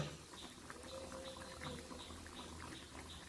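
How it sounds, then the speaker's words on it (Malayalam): Soft bubbling and gentle popping of a thick Kerala-style fish curry simmering in a pot, quiet and continuous, with no voices. "കറി തിളച്ച് കുറുകി വന്നിട്ടുണ്ട്."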